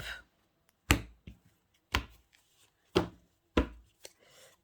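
A tarot deck cut and tapped on a table, giving five sharp, close card slaps spaced about a second apart with quiet gaps between them and no talking.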